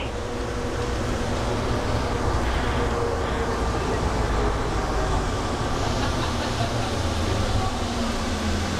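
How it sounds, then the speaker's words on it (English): Atlanta airport people mover train at Hartsfield-Jackson slowing to a stop, a steady low rumble and hum heard from inside the car at constant loudness. "Please hold on. The train is stopping."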